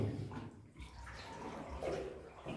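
Water sloshing and lapping in a flooded mine adit, faint and echoey, with soft irregular splashes as someone wades through.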